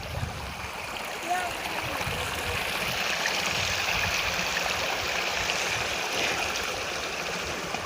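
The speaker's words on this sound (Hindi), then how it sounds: "ये जो आप पानी देख रहे हैं ये भी नेचुरल है, पहाड़ों से आ रहा है।" Cold water from high up in the mountains of Himachal's Barot Valley rushes in a steady, broadband stream, close and continuous. Soft voices sit faintly underneath.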